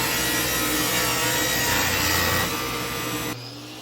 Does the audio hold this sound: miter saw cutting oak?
yes